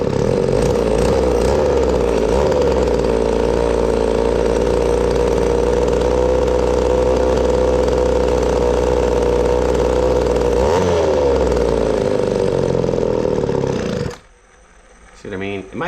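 An Echo 280e chainsaw with a poorly idling engine runs loud and steady at close range with a rough, uneven drone, then cuts out abruptly near the end.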